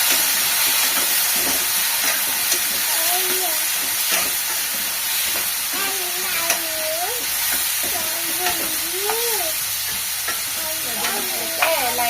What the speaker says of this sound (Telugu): లైట్గా ఫ్రై చేయాలన్నమాట వీటిని